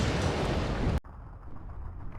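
Enemy fire in the Cold War WW3 strategy game WARNO comes as a second of dense, loud, booming fire that stops abruptly, leaving a quieter distant rumble.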